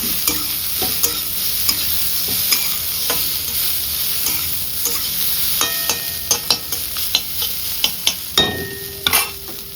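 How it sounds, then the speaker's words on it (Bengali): Prawns fry in a pan under a constant sizzle while a utensil stirs and scrapes them, with the clinks and knocks growing sharper and more frequent toward the end. "আমি এখন দেবো হচ্ছে আগে চিংড়ি মাছটা, একটু নাড়াচাড়া করবো"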